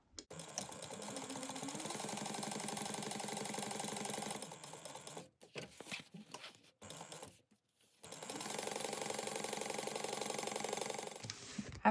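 A sewing machine stitches down a backpack pocket at an eighth of an inch, running in steady rapid bursts with short pauses between seams, close and fairly quiet.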